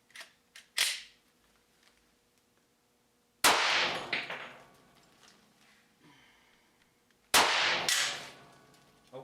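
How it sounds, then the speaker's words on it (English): Gunshots from a .460 Rowland firearm: sharp, loud reports with short echoing tails, fired one at a time with a few seconds' gap between them. No voices. "All right, 4 shots, 460 Roland."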